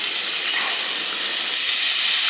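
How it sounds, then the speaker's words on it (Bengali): Water splashed into hot oil and frying spices while making a chilli pickle, giving a steady broad sizzling hiss that swells slightly toward the end, close and fairly loud with no voices. "সামান্য একটু জল দিয়ে দিচ্ছি"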